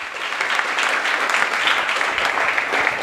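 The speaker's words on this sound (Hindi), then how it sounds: "तो एक बार जोरदार तालियां सुनील सर के लिए भी हो जाए।" A school audience gives loud, sustained applause for Sunil sir, a dense, even wash of many hands clapping close by for about three seconds with no speech over it.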